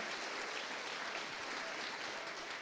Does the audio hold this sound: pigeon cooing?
no